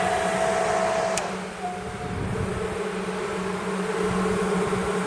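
Honey bees in an apiary hive in cold weather give a steady, close drone of buzzing with a faint tonal hum running through it, and no one speaks.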